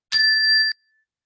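A single bright metallic ding like a small gong or bell struck once, with a clean sustained ringing tone that cuts off after about half a second, loud and alone in silence.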